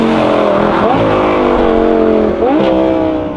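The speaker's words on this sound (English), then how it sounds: "on the downshift you get this lovely blip, and the V10 engine just sounds so good back there" Lamborghini Gallardo Super Trofeo Stradale V10 engine heard from inside the stripped-out carbon-fibre cabin, loud sustained revving with two throttle blips on downshifts rising sharply in pitch, steady and close.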